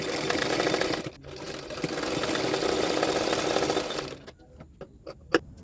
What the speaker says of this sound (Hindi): अभी उसको इस तरह से फोल्ड करते हुए और एक सिलाई डाल दूंगी अंदर की तरफ